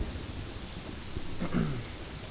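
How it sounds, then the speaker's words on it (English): Rain falls steadily with a low rumble of thunder underneath, a continuous outdoor wash that builds slightly toward the end, heard alone with no talking. "It's raining."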